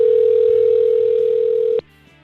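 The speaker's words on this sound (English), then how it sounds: "Let's see if she'll answer the phone." A single steady telephone tone holds for nearly two seconds and then cuts off sharply as a call to mom connects, loud and close, followed by quiet line noise.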